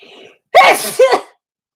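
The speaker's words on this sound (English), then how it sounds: "I feel like I got to sneeze" A single loud, close sneeze with a sharp burst and a brief trailing tail, preceded by faint breathy murmuring.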